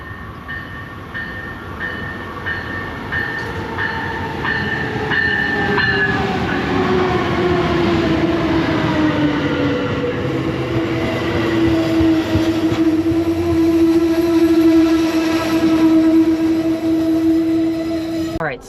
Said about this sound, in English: All right, our train is arriving.